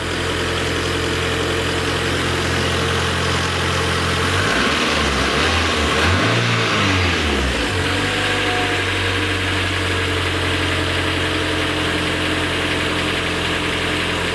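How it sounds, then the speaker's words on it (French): A Renault Twingo engine idles steadily and slightly high, a loud continuous hum close by that briefly swells and wavers mid-clip before settling again, with no talking. "le ralenti est un petit peu haut, mais franchement, ça n'a rien à voir comparé à tout à l'heure"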